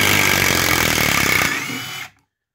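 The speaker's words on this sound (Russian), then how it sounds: "Почти гайковерт по конструкции, просто зажим под биты, а не квадрат." A Stanley SBI201 cordless impact screwdriver runs loud and close with a steady whirring buzz for about two seconds, then winds down and cuts off into silence.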